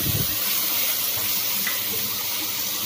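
Tomatoes dropped into a pan of browned fried onions, giving a soft steady sizzle and hiss throughout, close by and alone without talk.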